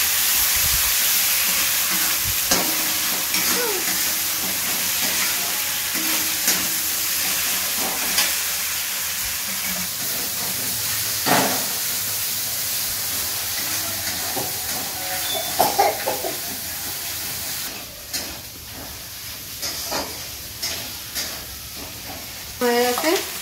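Spice masala with chopped tomato and turmeric frying in a pan, a continuous close sizzle and hiss broken by repeated scraping and stirring strokes of a utensil, with faint knocks toward the end.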